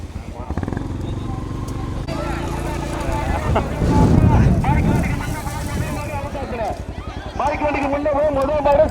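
Bulls pull carts at speed in a rural Tamil bullock cart race, their hooves and the rattling carts rumbling loudly under excited commentary and crowd noise.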